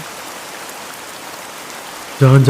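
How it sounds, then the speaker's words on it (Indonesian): Heavy rain from a thunderstorm in the video game A Space For The Unbound hisses as a steady, moderately loud wash, cut off at the end by a sudden burst of louder, tonal sound. "Hujan petir lagi, hujan petir."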